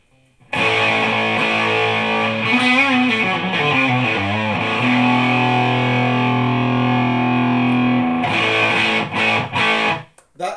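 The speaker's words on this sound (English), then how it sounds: "I'm not getting anywhere with the Marshall tones" Distorted electric guitar through a worn, old Behringer V-Amp 2 on its Marshall-style Brit 50-watt amp model, strummed chords and a sustained ringing note, loud and alone, then choked off into short stabs and silence.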